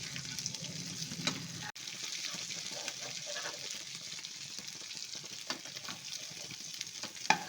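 Brinjal and masala frying in a pan: a continuous, even sizzle with light stirring and scraping throughout, steady and fairly quiet, with a sharp clink near the start and no speech over it.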